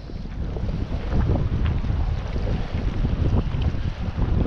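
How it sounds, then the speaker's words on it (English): Wind gusting steadily over a microphone while fishing from a boat on the water, a constant low rumbling buffet with slight surges, close and fairly loud, with no voices. "I blame this wind."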